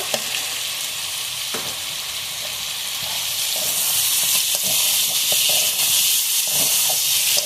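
Spices for tahari fry and get stirred in a pot, giving a continuous close sizzle and hiss with scraping stir strokes, growing slightly louder partway through.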